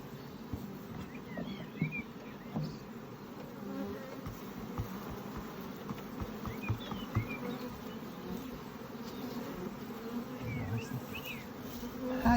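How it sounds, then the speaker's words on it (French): Honeybees swarm around an open hive during a spring honey flow, a steady low buzz that fills the scene continuously and stays moderately close, with a few faint higher chirps in the background. "Monnier, tu te couches où il y a des abeilles"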